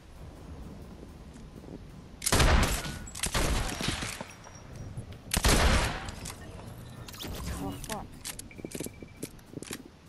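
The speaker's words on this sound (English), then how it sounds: "Someone's shooting at Mando." In a Fortnite match, two loud bursts of rapid gunfire ring out close by. Lighter clatter and rattling fill the gaps, and people talk over the game.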